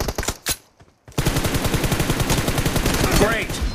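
Rapid automatic gunfire from the PUBG battle royale game: after a few isolated shots and a brief pause, a dense, continuous burst of fast, evenly spaced shots runs loud to the end.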